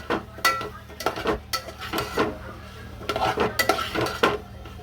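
A spoon scrapes and clinks against a pan as sliced potatoes and mixed vegetables are stirred and tossed together, a run of close, irregular scraping strokes with a low hum underneath.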